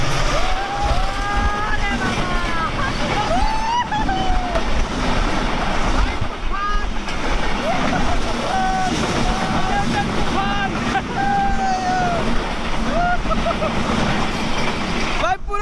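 Strong wind buffets the microphone at a small lakeside railway station with water on both sides in the Chalan Beel wetland, a steady loud roar that fills the whole recording while a voice talks over it.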